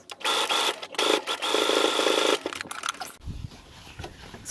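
A Brother sewing machine stitching a buttonhole on a vest runs in a loud steady buzzing whir with short pauses, then stops, leaving quieter handling rustles.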